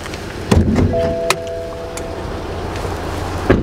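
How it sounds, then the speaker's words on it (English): Bonnet of a used BMW 1 Series being opened: a sharp latch clunk, a second metallic click moments later, then a final thud near the end, close and fairly loud over a quiet outdoor background. "So let's pop the bonnet,"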